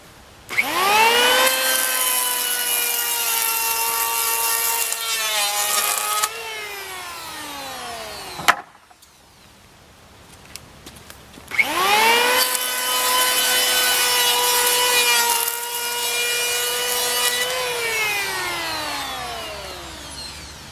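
White oak deck boards have their edges smoothed by a power tool, two long passes of high whining machine noise that rise and fall in pitch, separated by a short quiet pause.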